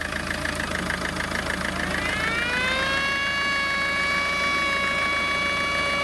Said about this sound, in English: you can hear the engine bog down